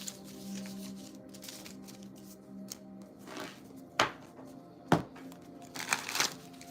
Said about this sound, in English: I'm gonna get ready to shuffle up then.